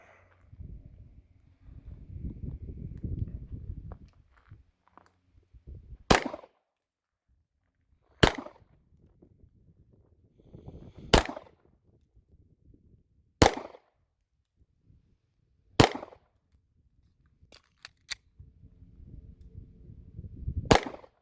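Beretta 92 FS pistol fired at a shooting range: five loud, sharp single shots spaced a couple of seconds apart, with a sixth near the end, over low background rumble and handling noise.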